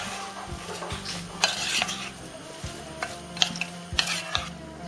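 Ingredients, including carrots, hiss and sizzle in a pan while a utensil stirs and scrapes against it in uneven strokes, close and continuous.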